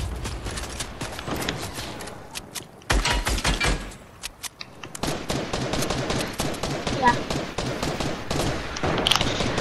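Gunfire in the Fortnite video game crackles in rapid bursts and scattered single shots, with dense volleys, brief pauses and a busy clatter of game effects throughout.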